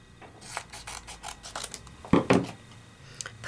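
Scissors cutting a piece of paper for a card, a series of crisp rhythmic snips and rasps close by, ending in a louder cluster of cuts.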